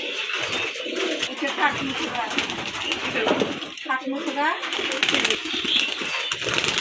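Giribaz pigeons coo and flutter close by as they are fed paddy grain, with soft repeated warbling calls over light scattering and rustling sounds.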